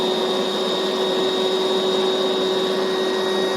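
Electric pump inflating a CHILLSUN two-person air mattress, a loud constant motor drone with a steady whine, unbroken throughout.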